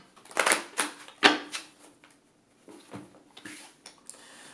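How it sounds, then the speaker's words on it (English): Quick papery riffling bursts, a few in close succession with short pauses, like a deck of cards being shuffled nearby. "so I'm going to shuffle one time."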